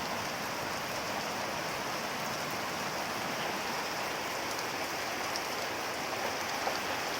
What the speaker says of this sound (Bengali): দেখেন রামনগরে এই যে বৃষ্টি পড়ছে দেখেন